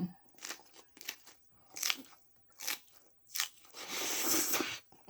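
Crisp, close bites and chewing on fresh raw vegetables eaten with Thai tilapia miang, several sharp crunches in an irregular rhythm followed by a longer crackling chew, with no talking.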